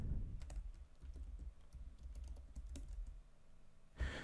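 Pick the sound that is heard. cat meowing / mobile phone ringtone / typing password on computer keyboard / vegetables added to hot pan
typing password on computer keyboard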